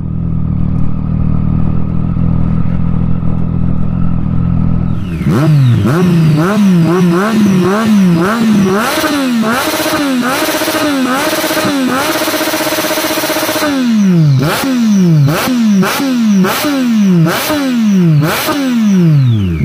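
A Triumph Street Triple 675 motorcycle idles with a low rumble, then its engine revs hard in quick repeated throttle blips through the exhaust, rising and falling sharply, loud and close.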